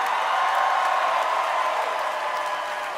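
An audience applauds at a Trevor Noah stand-up comedy show in Los Angeles: steady, dense clapping mixed with crowd noise holds at an even level for about three seconds.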